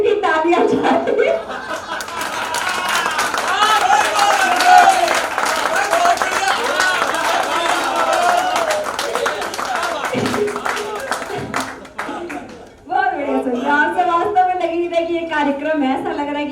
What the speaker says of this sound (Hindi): एक एक देशभक्त की तालियां चाहिए।